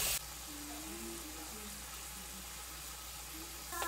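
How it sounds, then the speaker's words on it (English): Bacon browning in a pan on the stove at home, a soft, steady crackling sizzle that stays faint and continuous, with clinks at the start and end. "We're gonna brown up the bacon a little bit first."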